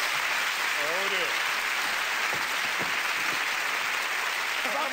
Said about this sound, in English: A big round of applause, yes!